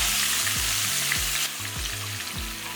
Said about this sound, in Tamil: சேர்த்துட்டு இந்த எண்ணெயிலே நல்லா பொறிச்சு எடுத்துக்கலாம்